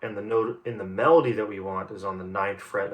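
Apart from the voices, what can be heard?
No everyday noises stand out.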